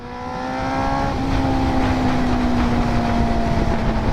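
Smoky diesel vehicle engine running steadily, a loud close drone that swells over the first second and then holds an even pitch.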